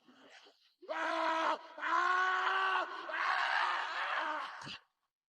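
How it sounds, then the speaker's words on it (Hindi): A man lets out a long, loud, strained scream in a horror setting, rising in drawn-out anguished waves, then cutting off abruptly into silence. "कुछ देर बाद लेखक की एक जोर से चीख सुनाई देती है।"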